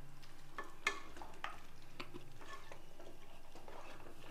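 A spoon scrapes and stirs in a pan with light, repeated clinks over a soft steady sizzle, fairly close, while mutton trotters are sautéed for a Tamil curry.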